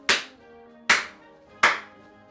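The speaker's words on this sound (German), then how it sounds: "Jetzt hast du sehr schön geklatscht." Hands clap three times, evenly spaced sharp claps in a quiet workshop where a violin bass bar is being fitted, each with a short ringing tail.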